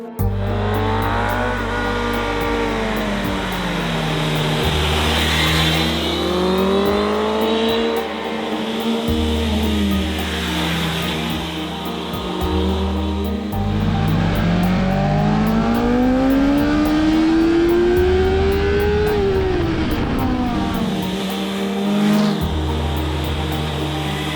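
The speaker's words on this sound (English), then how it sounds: "M1000XR, an absolute powerhouse of a motorcycle" BMW M 1000 XR motorcycle engine revving hard while riding, loud and close, with rising and falling pitch sweeps as it accelerates, shifts and eases off, continuous throughout with no talk.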